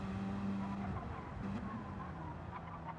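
Video-game Sirocco race cars roar off the line at Tsukuba in a DTTRC race, steady engine drone with tire squeal and skidding throughout, loud and close.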